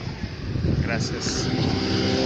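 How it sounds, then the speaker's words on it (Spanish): Route A cars pass along Calle del Sol in Santiago, giving a close, rushing street roar with engine drone and traffic noise. "Carros de Poncho de la ruta A que pasan por aquí"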